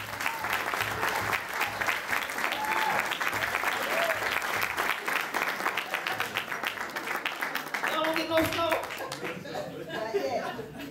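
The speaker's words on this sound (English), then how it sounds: "ladies and gentlemen, one of them round of applause" Warm, sustained applause from the crowd at a jazz band concert in a Jersey City venue, continuous clapping with scattered cheers and chatter, fading as voices emerge near the end.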